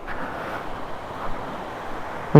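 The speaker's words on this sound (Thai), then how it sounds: "น้ำแรงว่ะ น้ำเยอะด้วย" Strong, full river water rushing steadily at a campsite, a continuous broadband roar close by and alone, with a sudden knock at the very end.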